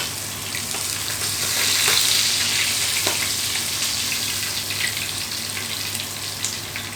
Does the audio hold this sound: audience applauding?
no